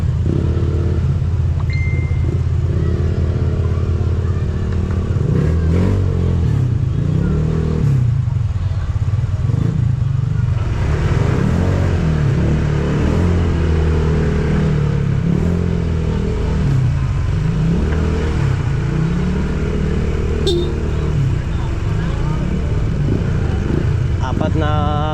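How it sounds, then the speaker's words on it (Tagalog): Four motorcycles in a funeral procession in the Philippines rumble and rev as they set off, a loud close engine drone with rising throttle swells and some clatter running throughout, with people talking over it. "Apat na motor kami lalakad ngayon"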